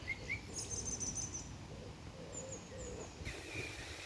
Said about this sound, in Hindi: चिड़ियाँ चहचहा रही हैं।